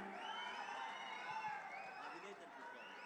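A large party-convention crowd at a Mahanadu rally cheers and shouts from a distance, a faint, continuous wash of voices with a speaker talking over it.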